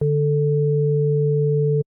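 A steady synthesized sine tone on D with an added harmonic on A, two pure pitches held together loudly and evenly for about two seconds before cutting off abruptly.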